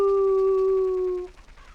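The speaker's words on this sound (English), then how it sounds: "That's a wolf howl." A single drawn-out wolf howl from the video game Ocarina of Time holds one steady, clear tone for over a second, then cuts off into faint background noise.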